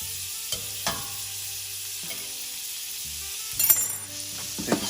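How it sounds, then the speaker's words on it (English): A ramen and waffle grilled cheese sandwich fries in butter in a pan, a steady close sizzle running throughout with a few light clinks of a utensil against the pan. "let this cook and toast on the other side"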